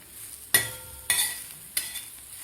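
Cluster beans fry with spices in a hot pan and are stirred, with three distinct scraping stirs over a soft, steady sizzle, close and clear with no talking.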